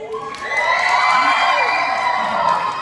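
Crowd at a gay beauty pageant in Camarines Norte erupts in loud cheering, high-pitched shrieks and clapping, building quickly and staying strong throughout.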